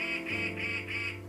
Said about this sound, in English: Black-capped chickadee squawking over there.